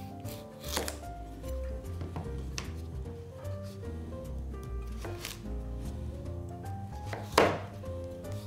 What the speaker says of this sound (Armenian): Գազարը կտրատում ենք լոբու հատիկների չափ, մոտավորապես։